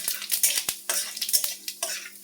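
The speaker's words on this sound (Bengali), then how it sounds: "এবার কড়াইতে তেল গরম হয়ে যেতে শুকনো লঙ্কা, তেজপাতা আর জিরে ফোড়ন দিচ্ছি।" Dried red chillies, bay leaf and cumin seeds hit hot oil in a wok, giving bursts of crackling sizzle broken by sharp scrapes and clinks of a spatula stirring.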